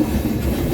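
A train pulls slowly into New Bongaigaon station, a loud, close, continuous low rumble of rolling wagons with faint rhythmic wheel clatter and no voices.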